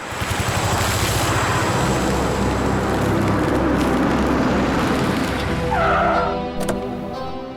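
A car pulls over and comes to a stop: a loud, rushing road and engine roar with a slight tire hiss that holds steady, then eases off and fades toward the end.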